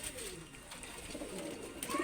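Soft, low cooing from a Pakistani Prince Kamagar pigeon carries on steadily through the whole moment, murmuring close by over a faint background hiss.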